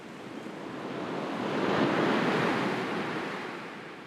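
Ocean waves break on a shore in a continuous, close rush of surf that swells to a peak midway and then slowly recedes, with some wind noise and no voices.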